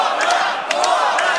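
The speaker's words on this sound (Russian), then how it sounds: "Болельщики включаются, поддерживают Сослана, скандируют «Кобра, Кобра»" Fans in the arena crowd at a Russia versus Brazil combat fight chant in support of a fighter, a loud, steady roar of massed voices with rhythmic shouted bursts repeating through the short span.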